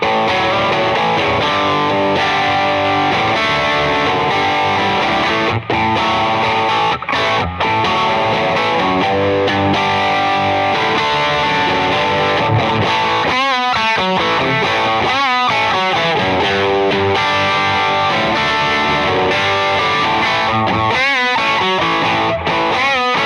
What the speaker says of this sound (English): First thing I dialed up is just kind of a classic tube screamer sound.